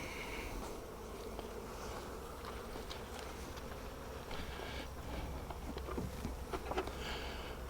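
Honey bees buzzing around beehive supers during a honey harvest, a steady close drone of many insects with individual bees passing near, quiet and continuous with no talking.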